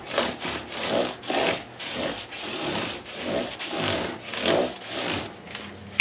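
Sandpaper of 600 grit rubbed back and forth over the top of a Stratocaster guitar to remove wear marks, a steady rhythmic scratchy rasp of repeated strokes, close and fairly loud, with no talking.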